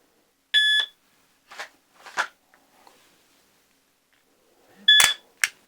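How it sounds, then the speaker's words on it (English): Two short, loud electronic beeps from a shot par timer set to four seconds, one opening and one closing the interval, with soft shuffling handling noises between them. "we're going to use a par timer starting at 4 seconds"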